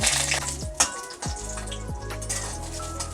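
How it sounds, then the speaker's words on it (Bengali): Lentil dumplings (bori) frying in hot mustard oil, a steady crackling sizzle with a few clinks of utensils against the pan, close and continuous. "এরপর আমরা এর মধ্যে এবার বড়িগুলো দিয়ে বড়িটা একটু লালচে লালচে করে ভেজে নেব"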